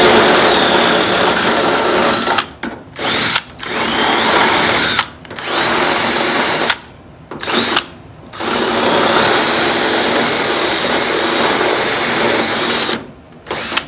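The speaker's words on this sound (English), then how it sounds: "I've got these two holes cleaned out now with the broken off drill bit" A close, loud power drill whines steadily, stopping briefly several times before spinning up again, grinding against metal with no talking, as a broken-off drill bit cleans out two holes in the metal panels of a 1970 Dodge Challenger.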